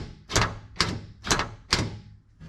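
A Chevrolet C10 door latch mechanism, out of the door on the bench during assembly, clunks four times as its outside handle is hit, each a sharp metallic knock with a short rattle, evenly spaced and close.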